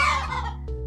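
Chickens in the video game Terracards give a short, loud, close cluck that trails off, then a brief second note, with no talking over it.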